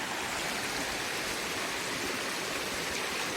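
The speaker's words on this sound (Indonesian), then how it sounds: "Ini sungai jadi dua, satunya sana, satunya ke sini." A mountain river at Kali Sumberingin near the Tulungagung–Kediri border splits in two over flat stones, a loud, continuous rushing of close flowing water with no breaks and no voices.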